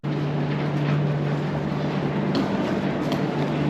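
A train waits at a station in Sarajevo, giving off a steady, droning hum with a constant low tone and broad noise, loud and unbroken over the short stretch.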